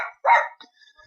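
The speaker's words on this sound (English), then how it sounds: "pardon the dog barking in the background" A dog barks a couple of times in the background, one sharp bark followed by softer short yips, brief and fairly close.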